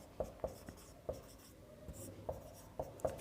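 Pen on paper while working a maths solution: soft, close, intermittent scratchy strokes and taps spaced irregularly, faint against a quiet room, with no talking.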